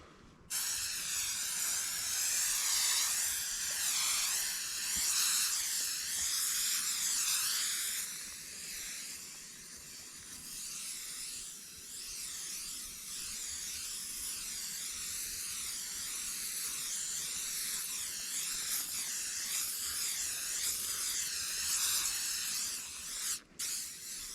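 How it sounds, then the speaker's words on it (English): Seam sealer sprayed from a can onto the green bottom wall of an Ozark Trail 7-person Wigwam tipi tent: a long steady hiss, close and loud, wavering as the nozzle moves, with a brief break near the end. "And now I'm going to spray this bottom part here, the green part."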